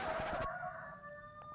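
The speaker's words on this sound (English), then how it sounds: "there's the cockerel that never stops" A rooster crows nearby, its drawn-out call trailing off, followed by quiet background hum and a faint distant cluck.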